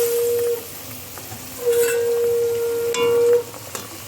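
Hilsa fish simmering in a boiling mustard gravy gives a steady bubbling sizzle with clinks from a pot, and a thin high tone comes and goes over it.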